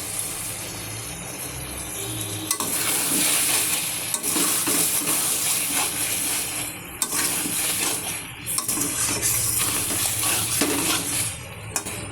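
Prawns with turmeric fry in a pan, a loud continuous sizzle broken by the scrape and clink of a utensil stirring against metal, with repeated sharp knocks.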